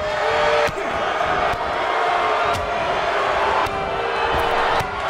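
An arena crowd in WWE 2K19 roars in a dense, continuous wash of cheering and shouting, loud throughout, with a few sharp slams cutting through.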